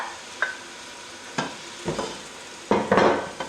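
Blended onion and chili frying for Ghanaian jollof rice with goat meat, a low sizzle with a few sharp spoon scrapes against the pot, the last one loudest.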